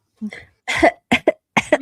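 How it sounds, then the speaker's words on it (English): Throaty coughs during a casual live podcast chat, four sharp, close bursts in quick succession separated by brief silent gaps. "I have to cough."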